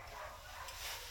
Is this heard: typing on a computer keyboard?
no